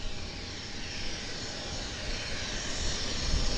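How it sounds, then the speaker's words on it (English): American Airlines jet airplane heading out at Vancouver airport, heard as a steady, fairly loud broadband jet engine roar that swells gently toward the end, with no talking over it. "it is none other than American Airlines flight 1415 heading to Dallas"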